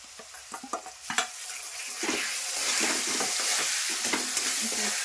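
Cucumber paste with turmeric sizzling in a hot pan as it is stirred, with scraping knocks at first, then a steady bubbling fry.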